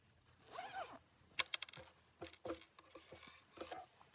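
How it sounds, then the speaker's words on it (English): A zipper being pulled shut on a handmade sewn bag, several short raspy zips in quick bursts, close and fairly quiet, with no talk over them. "So when you zip it up"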